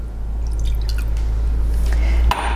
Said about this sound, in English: And then I've got a little water that's going in here.